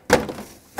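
A plastic grille pressed and clipped into place on a 2005-2009 Chevy Equinox, giving one sharp close snap and thunk. A softer click follows a moment later.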